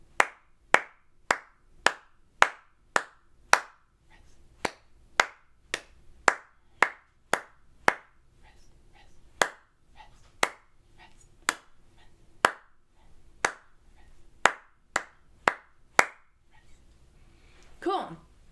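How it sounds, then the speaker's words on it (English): Crisp, evenly spaced hand claps ring out one after another in a steady beat, keeping time for a rhythm exercise from a beginner flute method book, with short pauses between groups and a faint voice near the end. "we're going to just do the clapping part"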